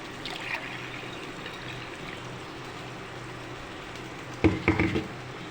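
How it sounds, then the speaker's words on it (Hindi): Water pours from a juicer jug into a gram flour batter for kadhi, a faint trickle followed by a louder splashing pour near the end of the short stretch. "अब इसके अंदर जो मैंने पानी भिगोया हुआ था ये जूसर के जग में, मैं ये पानी इसके अंदर ऐड कर दूँगी।"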